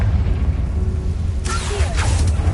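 Confringo blasting spell going off in the Hogwarts Legacy video game: a sudden bright burst partway through, fading over a few seconds above a steady low rumble of game ambience.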